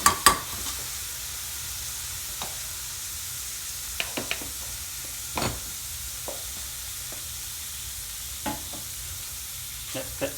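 Garlic paste frying in a pan for a restaurant-style chicken vindaloo: a faint steady sizzle and hiss throughout, broken by a few sharp spatula taps and stirs.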